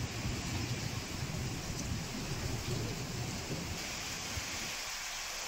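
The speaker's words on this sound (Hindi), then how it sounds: "सीधी में भी मौसम का मिजाज बदला और तूफानी हवा के साथ आधे घंटे तक बारिश हुई" Steady, heavy rain with stormy wind gusts in Sidhi, a loud dense downpour hiss that continues throughout with no voices.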